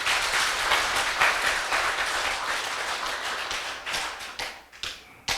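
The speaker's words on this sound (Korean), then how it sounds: "다시 한번 감사의 박수 한번 보내주세요." Audience applause of thanks at a Buddhist family dharma service, dense steady clapping from a crowd that thins into scattered claps and fades toward the end.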